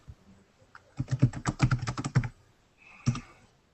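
Several players typing on computer keyboards during a tabletop RPG session, a quick burst of clustered key clicks followed by a short pause and a few more taps, close and clear with no talk.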